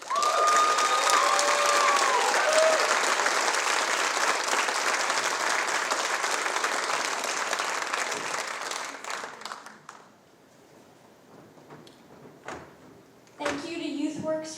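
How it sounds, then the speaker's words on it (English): Loud applause and cheering from an audience at a youth leadership awards ceremony for a Rising Star Award recipient, sustained for several seconds, then fading to a near-quiet room with scattered sounds before noise returns. "would you please give a big round of applause to this year's Rising Star Award recipient"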